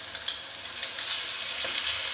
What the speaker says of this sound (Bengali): টমেটো, আদা, রসুন, জিরে গুঁড়ো, ধনে গুঁড়ো সব দিয়ে ভালোভাবে আমি নাড়িয়ে চালিয়ে কষে নেবো।